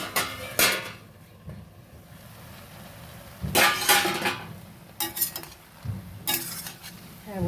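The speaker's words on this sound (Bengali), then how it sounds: "দেখি ঢাকনা খুলে হয়ে গেছে কিনা।" A lid lifted off a cooking pot of bottle gourd leaf chorchori, giving several sharp metallic clinks and scrapes spaced through the clip over a soft background hiss.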